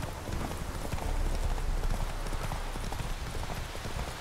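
A horse gallops in The Witcher 3: Wild Hunt, with rapid, continuous clip-clop hoofbeats over steady ambient game sound, loud and close throughout, with no talking.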